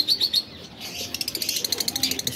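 Lovebirds in a breeding aviary give sharp high chirps, followed by a quick run of wing flaps, close and fairly loud.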